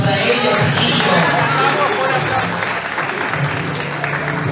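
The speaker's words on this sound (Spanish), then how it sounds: "El aplauso para ellos" A studio audience at a weekly talent contest show applauds with steady, dense clapping that stays loud and close throughout, mixed with some crowd noise and chatter.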